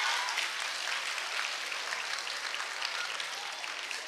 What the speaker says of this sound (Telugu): చూసారా, మాధవీలత గారు కూడా క్లాప్స్ కొడుతున్నారు ఇప్పుడు.